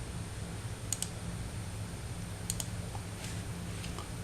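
Faint, sparse clicks of a computer mouse sound in a quiet room, with a pair of quick clicks near the start and another pair midway over a low hum.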